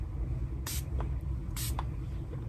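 Two sharp bursts from a Dalba spray serum bottle, each a short hissy mist puff about a second apart, close and strong-pressured over a low background hum.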